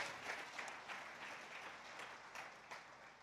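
Congregation clapping during a church service, a steady broadband wash of many hands with small surges, moderately distant and continuous throughout.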